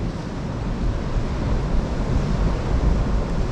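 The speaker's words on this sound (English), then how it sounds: "The sound of that water crashing up against the rocks" Sea surf breaking against rocks at Tenby, Pembrokeshire, a steady loud broadband wash with wind rumble, continuous without clear individual wave breaks.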